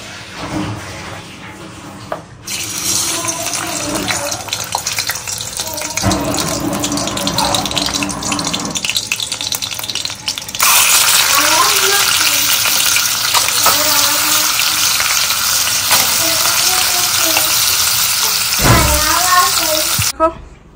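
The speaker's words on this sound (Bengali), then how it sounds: "কড়াই মোটামুটি গরম হয়ে গেছে, এবার আমি মাছগুলোকে একটা একটা করে ছেড়ে দেবো" Fish sizzle loudly as they are slipped one by one into a hot kadai of oil spiced with cloves, cinnamon and green chillies. The steady frying hiss swells sharply partway through, with occasional stirring clatter and a brief voice.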